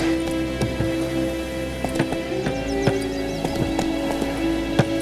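Hooves of Roach, Geralt's horse in The Witcher 3, clopping in a steady galloping rhythm, close and fairly loud over a soft bed of rain and game ambience.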